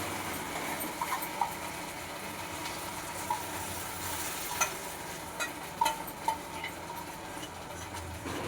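Creamy curd mixture being stirred into vegetables cooking in a pan, giving a soft continuous stir and low sizzle with a few small clinks of the spoon against the pot, no voices.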